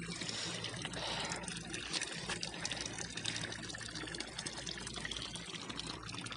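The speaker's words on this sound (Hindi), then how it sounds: "ये देखिए पहाड़ से पानी निकल रहा है" Steady rushing of cold spring water pouring and splashing from a mountainside in Solang Valley near Manali, a continuous loud gush with no voices.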